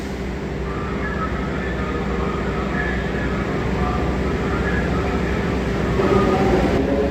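Commuter train KA Supas departing Surabaya Gubeng station toward Surabaya Kota: a steady, continuous rumble and rolling drone that swells slightly near the end, heard alone without talk.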